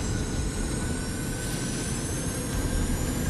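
Airliner jet engines roaring during takeoff: a loud, continuous, broadband rumble with a steady whine, close and sustained throughout, with no voices.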